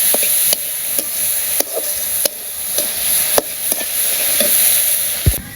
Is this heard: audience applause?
no